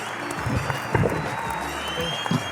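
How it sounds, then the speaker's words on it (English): Audience applause at a live show in Yellow Springs, Ohio, a modest crowd clapping steadily, with scattered voices and a few louder bumps mixed in. "Let's all give a round of applause for Boogie of Nature's Opus."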